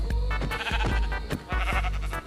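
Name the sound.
sheep bleating in a survival video game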